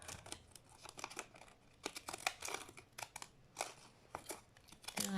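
Fiskars deckle paper edger scissors cut through paper in quick, faint snips and crinkles, a steady run of short crisp clicks with no talking.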